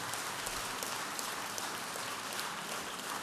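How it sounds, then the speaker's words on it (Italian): Audience applause for Matteo Renzi after the Bersani–Renzi primary runoff: dense, steady clapping from a large crowd, sustained and even throughout with no voices over it. "Lo saluto con un applauso."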